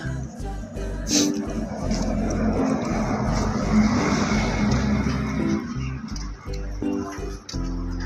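A big machine running at a workplace in Poland makes a continuous broadband industrial roar with some tonal hum, fairly loud and steady with a few brief dips near the end.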